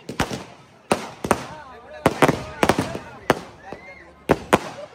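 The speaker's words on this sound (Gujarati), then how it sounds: "ચાલુ પ્રોગ્રામમાં ફટાકડાની મોજ વચ્ચે મૂક્યા હતા" Firecrackers going off during a program: a string of sharp, loud bangs and crackling pops in irregular bursts, with voices chattering underneath.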